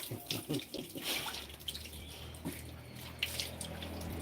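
Water escapes steadily from a broken pipe, a faint continuous splashing and trickling wash with a few louder spatters, heard alone without talk.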